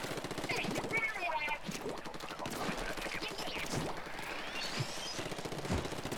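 A heavy gun fires in Splatoon 2, rapid repeated bursts mixed with game effects, heard under a voice talking over the action.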